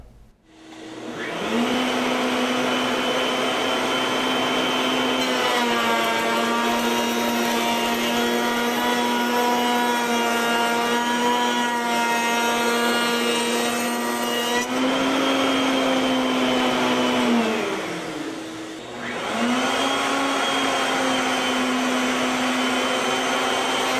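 A router table with a guide-bearing bit cuts a raised panel for a cabinet door, making a loud, steady high whine that runs nearly unbroken, its pitch sagging briefly under load before returning to full speed.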